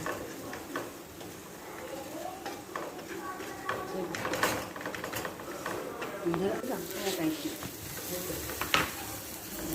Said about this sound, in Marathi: आणि ते झाले की त्यामध्ये आपण ते खोबरा आणि शेंगदाण्याचे कूट टाकून घ्यायचं आणि परतून घ्यायचं